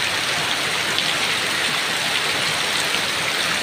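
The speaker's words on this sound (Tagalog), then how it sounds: "Malakas ang ulan o." Heavy rain pours down in a loud, unbroken roar of drops, dense and close, with no voices over it.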